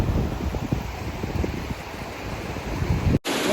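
Gnarly river rapids roar on a rugged wilderness hike, a continuous rushing current mixed with wind buffeting the microphone, ending in a brief abrupt cutout just before the close.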